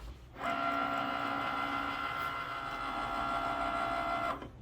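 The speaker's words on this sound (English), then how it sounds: "And then we'll go ahead and click our flashing Cricut button and it will get our first one started." A Cricut cutting machine runs in fast mode cutting a shirt design, starting abruptly into a steady, close mechanical whir with a tonal hum, running several seconds before stopping sharply.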